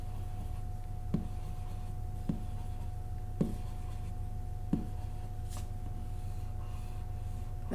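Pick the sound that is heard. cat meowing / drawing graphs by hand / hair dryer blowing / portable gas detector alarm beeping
drawing graphs by hand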